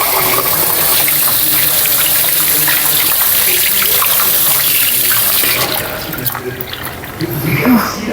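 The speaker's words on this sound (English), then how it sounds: "So I will wash my hands." Hands being washed under a running kitchen tap, a steady loud rush of water that splashes unevenly and eases near the end while someone talks over it.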